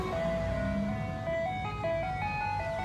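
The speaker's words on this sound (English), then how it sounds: "There's new ice cream truck." An ice cream truck playing its chiming melody, a steady tinkling tune of stepped notes heard continuously over a low engine rumble, moderately near.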